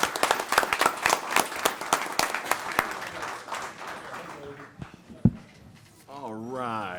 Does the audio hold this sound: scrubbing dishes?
no